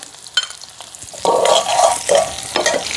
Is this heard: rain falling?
no